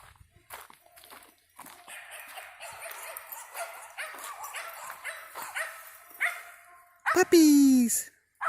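A puppy yelps and whimpers in a sharp high burst near the end, after scattered soft movement and rustling sounds in woods.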